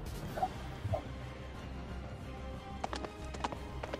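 Horse hooves clip-clop in a video game set during a city battle, scattered, moderately close hoofbeats over a dense rumbling backdrop of combat noise.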